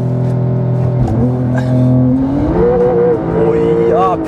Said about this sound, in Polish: I teraz gaz do oporu i puszczasz hamulec.